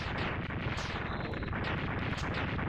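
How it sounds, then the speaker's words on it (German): Explosion sounds in the Mega Man X2 video game, with loud, dense, crackling bursts that roll on continuously for a few seconds and carry no speech. "Er explodiert."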